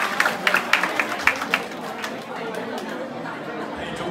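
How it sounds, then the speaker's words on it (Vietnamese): A congregation at a celebration for a newly ordained deacon claps in scattered, uneven hand claps that soon fade into a steady murmur of crowd chatter. "tổng đoàn chúng ta cho một tràng pháo tay để chúc mừng thầy phó tế của chúng ta"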